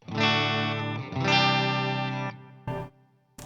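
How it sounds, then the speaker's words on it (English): Squier Bullet Telecaster electric guitar on the bridge pickup, plugged straight into an amp: two long ringing chords with rich overtones, followed by two brief strummed hits and a short silence. "here is the guitar on the bridge pickup straight into the amp"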